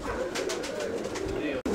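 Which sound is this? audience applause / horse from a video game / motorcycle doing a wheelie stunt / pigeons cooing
pigeons cooing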